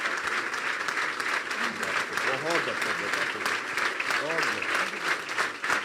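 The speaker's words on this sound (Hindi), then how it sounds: "यहाँ पर जोरदार तालियां यीशु के जलाल के लिए।" Church congregation clapping loudly during a worship service, a dense, sustained burst of applause throughout, with someone speaking and calling out over it.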